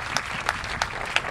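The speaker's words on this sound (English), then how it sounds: "One more round of applause" Sparse hand claps ring out at a teacher-honoring awards event, a few distinct claps in steady rhythm over a soft crowd wash, fairly close and moderate in volume.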